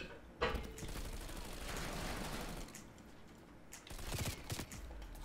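Rapid gunfire from the Bull Frog submachine gun in Call of Duty: Black Ops Cold War, bursts of shots running through much of the clip, with a brief lull before a final flurry.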